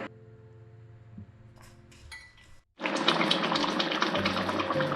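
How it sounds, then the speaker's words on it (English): Quiet tones and a few clinks, then a sudden steady rush of bubbling water with pork in a cooking pot, continuing loudly to the end as it comes to a rolling boil. "Very soon our water in the pork has started boiling."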